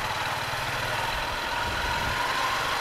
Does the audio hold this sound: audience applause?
no